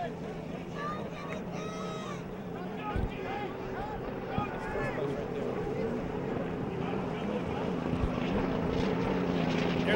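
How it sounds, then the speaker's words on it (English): A piston-engine hydroplane racing boat drones past with rough popping bursts, mixed with crowd noise and voices in the background at a Seafair race. "There's Ram Trucking, piston boat, as you can hear that popping noise that goes by."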